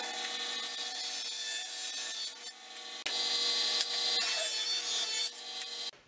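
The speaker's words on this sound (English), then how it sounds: "I'll do that at the table saw." A table saw thins a wood board with a steady, loud, whining cut that dips briefly midway, then stops abruptly at the end.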